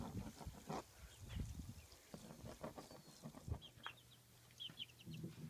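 A flock of bigger and smaller chickens mixed together clucks and chatters close by in irregular bursts, with a few higher peeps from the little ones mingled among the lower clucks.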